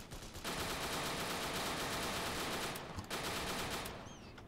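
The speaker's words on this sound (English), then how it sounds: "I'm getting shot at from over there, but there is nobody over there." Sustained automatic gunfire in the video game Dino D-Day, a dense rapid rattle of shots that stops briefly near the end, then resumes and tails off.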